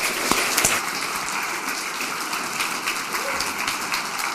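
Dense, steady applause from a concert audience, many hands clapping at once in a continuous wash with a few sharper claps near the start.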